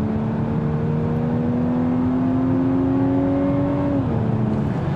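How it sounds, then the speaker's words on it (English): A 2024 Volkswagen Atlas Cross Sport R-Line's four-cylinder engine accelerating, with synthetic engine sound piped through the cabin speakers: a loud, steady droning hum that climbs gradually in pitch over several seconds, then drops at a gear change, heard from inside the cabin. "what I'm noticing the most about this engine is the augmented sound that Volkswagen is now pumping in"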